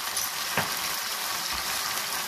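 Chicken karahi masala with garam masala frying in a pressure cooker pot, a steady broad sizzle with a couple of soft thuds from stirring.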